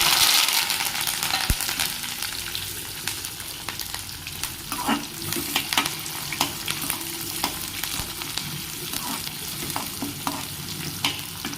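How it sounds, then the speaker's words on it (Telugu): Onions, chillies and curry leaves fry with a steady crackling sizzle, broken by occasional sharp pops and stirring scrapes throughout. "ఇప్పుడు ఇందులో ఆనియన్ పచ్చిమిర్చి కరివేపాకు వేసుకోవాలి"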